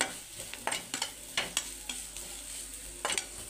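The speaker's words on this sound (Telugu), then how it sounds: "చికెన్ మసాలా పౌడర్, చాట్ మసాలా అన్నీ వేసి ఒకసారి బాగా మిక్స్ చేసుకుందామండి" A spoon stirs chicken masala and chaat masala through a hot pan, soft sizzling under a series of sharp scraping and tapping strokes at an uneven pace, close but fairly quiet.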